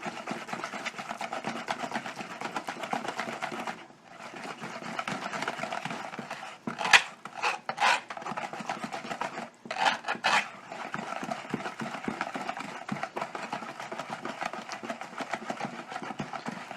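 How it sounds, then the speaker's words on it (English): A whisk beats a lumpy sweet and sour sauce made with preserves in a bowl, giving a fast, steady metallic rattle and scrape that pauses briefly twice, with a few louder knocks in the middle. "Alright, got my whisk. Let's see if we can mix this up a little bit better."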